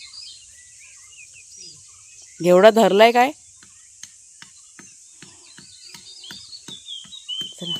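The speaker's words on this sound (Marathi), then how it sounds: "पक्ष्यांचे आवाज बघा" Birds chirp and call intermittently in a quiet outdoor space just after unseasonal rain, with a short burst of speech partway through and a steady high insect hum.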